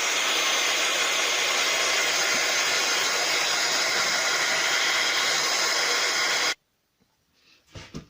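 A hair dryer blows steadily and loudly on an art journal page, a constant rushing whoosh that cuts off abruptly, followed by a few faint handling noises.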